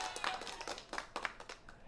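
Scattered hand claps from a small group of attendees at an informal community meetup, a sparse and faint burst of separate claps rather than full applause.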